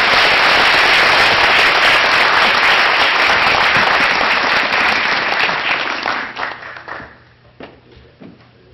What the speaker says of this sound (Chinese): 让我们以热烈的掌声来欢迎张忠谋张董事长